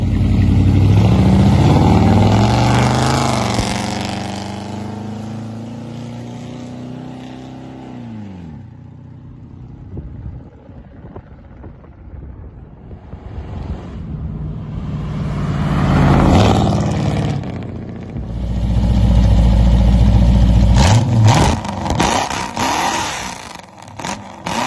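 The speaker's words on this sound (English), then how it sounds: "I would call the new glass packs a win. I think they sound really good." A 1963 Pontiac Star Chief with new glass pack exhaust pulls away and runs through its gears. The deep engine drone rises, drops at each shift, fades as the car moves off, then swells and roars again as it returns.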